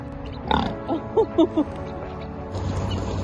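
A few short grunting oinks from pigs sound close by over low background noise, with some scattered outdoor farm sounds around them on the Oregon Coast.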